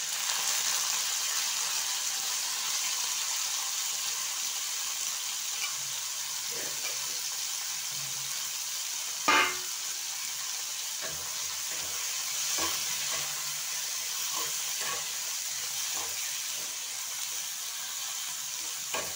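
Amaranth greens stalks sizzle in hot mustard oil in a pan, a steady bright frying hiss broken by occasional stirring clinks and scrapes, close up with no talking.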